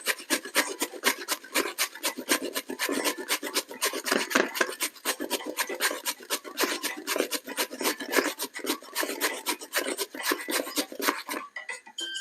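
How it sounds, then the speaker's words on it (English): A carrot rubbed against the fine side of a grater for vegetarian fritters, producing quick, rhythmic rasping strokes in a steady back-and-forth pattern, close and fairly soft, with no talking. "I'm using the fine part of the grater"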